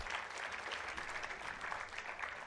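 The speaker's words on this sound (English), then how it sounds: "A round of applause for Sagarika, please." An audience at a literature festival panel on women empowerment applauds a panelist, a continuous, even wash of clapping heard faint and distant throughout.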